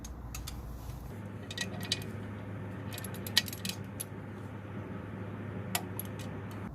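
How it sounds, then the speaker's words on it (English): Torque wrench tightening bolts during a clutch replacement on a Nissan Frontier 2.5L, with faint metallic clicks and ticks scattered over a steady low hum, no talking. "So now I'll do the final torque, and I'm just gonna torque it to 20 foot-pounds."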